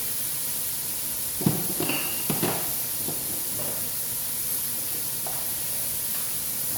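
Bay leaves go into hot oil in a pan while biryani is being cooked, giving a steady background sizzle and hiss with a few brief louder crackles and pops near the start.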